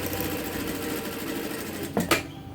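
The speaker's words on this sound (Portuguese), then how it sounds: "na pontinha, a gente vai fazendo essa costurinha" A sewing machine runs a steady, even whir as it stitches right along the edge of fabric for a small zippered cosmetic bag, then stops with a couple of short mechanical clunks near the end.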